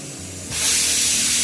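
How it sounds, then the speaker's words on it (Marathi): A sudden loud hiss of steam bursts out and keeps rushing steadily as a pressure cooker vents, its whistle lifted by hand, while rice cooks. "कुकरची शिट्टी होत नाही तर वर उचलावं लागते"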